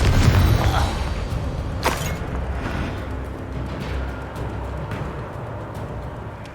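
A Confringo fire spell from Hogwarts Legacy bursts with a dull boom amid a dense, rumbling game soundscape, followed by a sharper crack and a long, steady roar of background noise.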